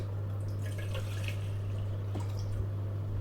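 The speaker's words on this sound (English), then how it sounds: "So we've got here 500 ml of water. I'm going to add that." 500 ml of water poured into a Jetboil Flash 2.0 cooking pot, a soft trickling and dripping splash under a steady low electrical hum, fairly quiet and close.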